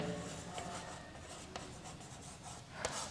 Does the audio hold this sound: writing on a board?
yes